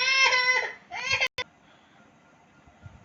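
A baby cries loudly in a couple of wailing bursts, then a click and quiet room tone follow.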